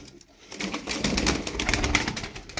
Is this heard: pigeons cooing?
yes